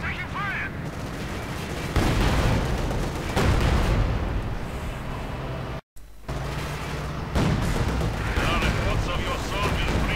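A Company of Heroes 2 tank battle involving a T-34 and an SU-76 roars with continuous gunfire, cannon blasts and explosions, loud and layered, with a brief cut to silence midway.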